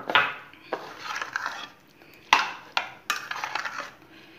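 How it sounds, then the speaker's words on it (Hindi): A spoon scrapes and clinks in a bowl as milk cream is stirred into milk, with several distinct knocks and rasping strokes separated by short pauses. "अब हम इसको इसके अंदर डाल देंगे और अच्छे से कर लेंगे मिक्स।"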